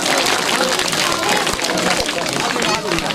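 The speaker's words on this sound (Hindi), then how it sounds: "स्काउट ताली" Scout-style group clapping from an audience at a patriotic gathering in India, a dense, continuous burst of many hands mixed with crowd hubbub, loud and steady throughout.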